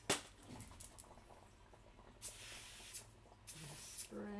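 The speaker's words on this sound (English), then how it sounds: "Need to give it a bit of spray." Non-stick cooking spray is shot into a bowl in several short hissing bursts, close and fairly loud, between quieter kitchen handling sounds.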